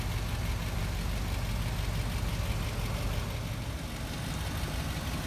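Steady, low idle rumble from the 430 V8 of a 1969 Buick Riviera, heard near and continuous, with a slight dip in level partway through and no voices.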